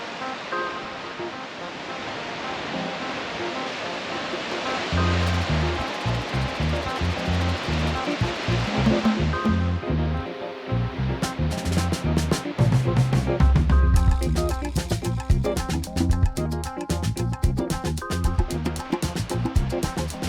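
Sea waves wash against Voulisma beach on Crete in a steady, continuous roar of surf. The sound stays fairly loud throughout, with no voices.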